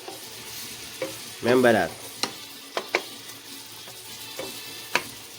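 Shrimp fried rice stir-fried in a pan, with a soft sizzle and several sharp clanks of a utensil against the pan spaced through the clip, while a voice speaks briefly partway in.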